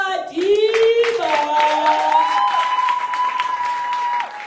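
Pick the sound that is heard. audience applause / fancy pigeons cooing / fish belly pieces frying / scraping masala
audience applause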